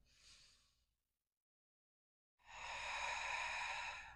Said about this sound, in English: couple deep breaths sitting right here.